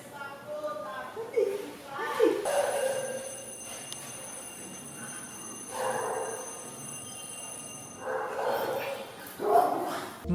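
A dog barks repeatedly in short yipping bursts, sometimes whimpering, close by and spread across the stretch, while someone talks over it and a faint steady tone runs for a while.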